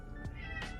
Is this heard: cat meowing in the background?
yes